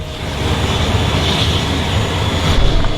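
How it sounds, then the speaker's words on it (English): A propeller or jet airplane departs from the small airport in Tuvalu, a steady broadband engine roar that holds loud and even throughout and swells slightly near the end. "There goes the only plane in the entire country."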